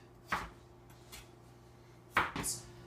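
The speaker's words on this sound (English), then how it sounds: "I'm just going to go ahead and slice these babies up" A knife slices potatoes into bite-size pieces on a cutting board, giving a few sharp, close thunks spaced apart in a quiet kitchen.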